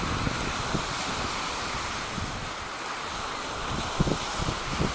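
Wind blowing hard outdoors around a Hubsan 502E drone in flight, a steady broadband rush of wind noise on the microphone with a few gusty thumps near the end, no talking.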